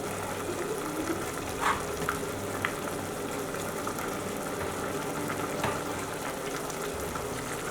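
Chicken pieces cooking in a pan for a ramen meal give off a steady, even sizzle with a few faint clinks, close by and with no talking.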